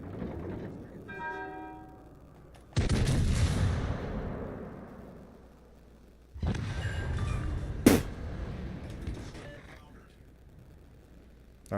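Warship main guns fire in World of Warships: Legends: two heavy booming salvos land a few seconds apart, each a loud broad blast that rumbles and slowly fades, followed by a sharp crack.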